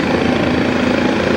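Air being sucked out of an aircraft stall warning device makes a steady, loud, rough burbling hum that fills the whole short stretch, with no talk over it.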